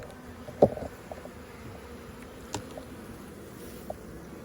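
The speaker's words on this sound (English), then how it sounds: "good solid cluster of bees" A honey bee colony clusters in a nuc hive during an autumn check, a faint, steady low buzz with a few brief knocks and taps over it.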